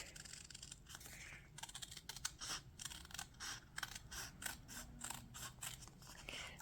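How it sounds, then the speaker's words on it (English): Paper being cut out with scissors for mini book ornaments: a steady run of quiet, crisp snipping and rustling strokes, close and unaccompanied by talk. "And then you cut them out."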